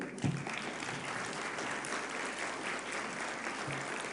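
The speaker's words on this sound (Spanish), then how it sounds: "le damos un aplauso" Audience applause following a medical presentation on hepatitis C at a Mexican medical association event, a steady broadband wash of clapping filling the room at moderate level and sustained throughout.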